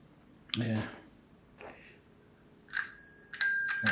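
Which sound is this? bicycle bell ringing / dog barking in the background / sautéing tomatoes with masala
bicycle bell ringing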